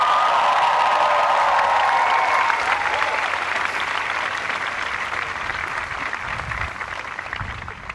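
Graduation crowd at a Dartmouth College commencement applauding, a dense sustained wash of clapping from a large audience that fades slightly over eight seconds, with no speech on top.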